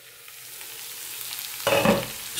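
Potatoes and cauliflower fry in a pan for aloo gobi, a steady soft sizzle building to a louder burst of stirring and crackle near the end, with no voices.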